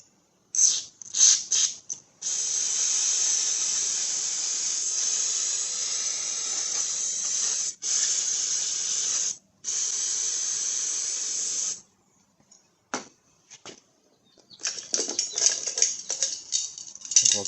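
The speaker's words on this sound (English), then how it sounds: "There's no screwdriver slot, so we'll just spray it out" Repeated hissing bursts of aerosol cleaner sprayed into the carburetor jet of a Husqvarna HU700L lawnmower, several long sustained blasts broken by short pauses, close and loud, with a few brief spurts near the end.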